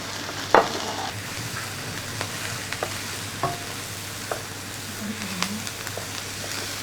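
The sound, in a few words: sautéing chopped mushrooms and shrimp in a pan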